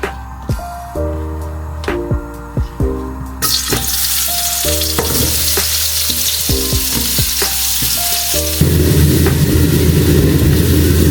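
Chicken curry ingredients hit hot oil in a pan, sputtering with sharp clicks and clatter before a steady loud sizzle takes over and swells near the end, close by with no voices.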